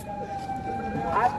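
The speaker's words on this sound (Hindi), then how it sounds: "इस समय सायरन बज रहे हैं चित्तौड़गढ़ नगर में जहां तहां" Air-raid sirens sound across the town of Chittorgarh during a blackout drill, a steady sustained wail heard at a distance with faint voices and background murmur.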